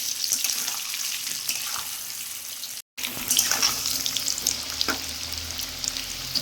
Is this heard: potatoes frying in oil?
yes